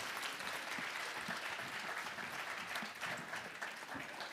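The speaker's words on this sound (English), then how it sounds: "Let's give them a round of applause." Church audience claps steadily after a Christmas program, dense applause sustained evenly throughout without talk over it.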